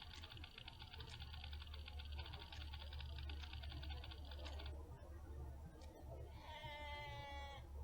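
A Yale mob in a Minecraft modpack, a sheep-like animal, gives a brief bleat near the end over a constant game drone with a buzzing mechanical tone.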